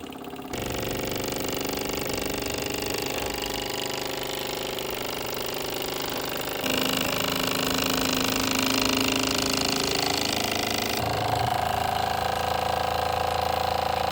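A Mamod SE1 live steam engine drives WS1 workshop machinery in a full run, giving a steady, loud mechanical clatter with rapid rhythmic ticking and whirring that carries on throughout and shifts slightly in tone partway through.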